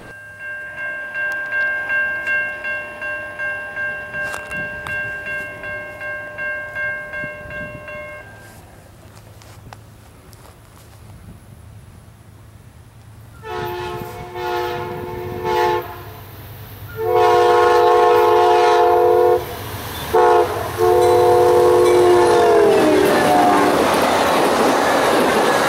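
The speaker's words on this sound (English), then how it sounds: "in time to have a chase with Amtrak's Silver Meteor northbound Train 98" Amtrak's northbound Silver Meteor passenger train, Train 98, at a rural crossing by a siding in Frostproof: a long multi-tone horn sounds, then the train rumbles past loud and close with clattering wheels and further horn blasts.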